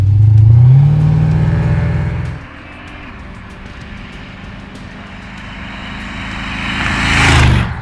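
A blown Jaguar rat rod engine revs loud and close, dropping from a high roar to a rough idle, then climbing again toward a second rev near the end.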